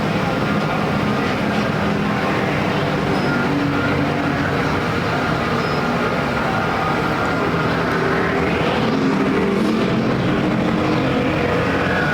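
Factory stock race cars run a heat at Perris Auto Speedway, a dense, continuous engine roar from several cars at mid distance, swelling as a pack passes, under steady crowd and track ambience.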